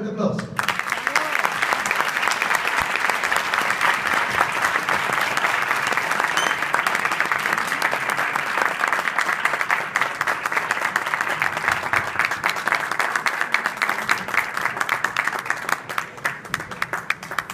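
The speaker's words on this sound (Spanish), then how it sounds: "Démosle, por favor, un fuerte aplauso." A long, strong ovation at an award ceremony honoring a social leader: dense crowd clapping that stays loud and steady throughout, with faint voices mixed in beneath it.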